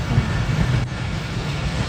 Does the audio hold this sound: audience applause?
no